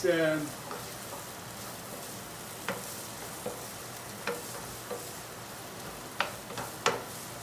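Onions for a bell pepper and tomato ragout sizzling in a pan: a soft, continuous frying hiss with scattered light clicks and taps of stirring. There is a short voice-like sound right at the start.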